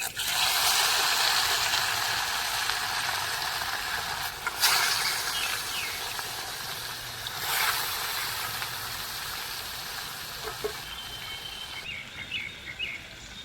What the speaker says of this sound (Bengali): এরপর মাছটা ভেজে নেবো। মাছটা দিয়ে দিলাম।